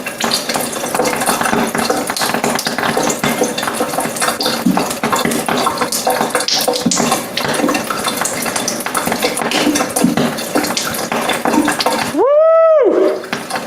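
Water gushes steadily from a Kangen water machine in a dense, continuous splashing flow, close and loud, stopping abruptly near the end.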